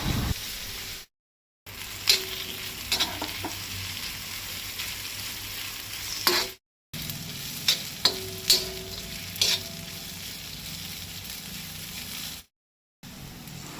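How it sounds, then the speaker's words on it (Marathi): Chopped onion frying in hot oil in a pan for a Goan mutton xacuti, a steady close sizzle with occasional stirring scrapes and clinks, broken by a few brief silent gaps. "कांदो मातसो लायट ब्रावन जायसर तळसून घेवपाक जाय."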